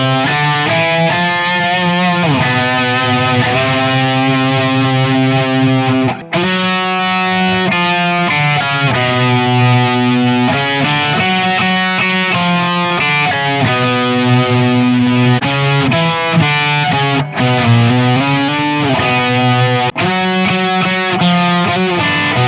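Distorted Aklot Strayloom electric 12-string guitar playing sustained chords with a shimmering, doubled tone, loud and continuous with only brief pauses.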